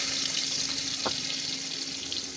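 Chopped onion hitting hot oil in a wok makes a constant hissing sizzle, with one short knock partway through; no voices.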